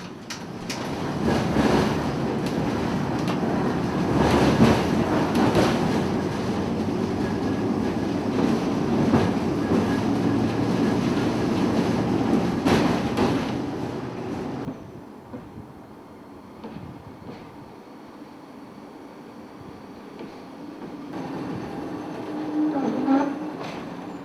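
An electric tram at a transport museum rumbling and rattling along the track for a long stretch, then quieting as it slows, with faint wheel squeal near the end.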